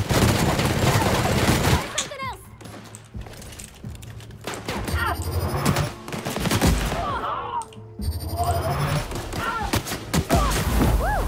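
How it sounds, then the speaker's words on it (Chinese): A Gatling gun firing in the video game The Outer Worlds, long loud rapid bursts broken by brief pauses, with game effects and a voice talking over them. "这加特林，这子弹消耗的有点高啊"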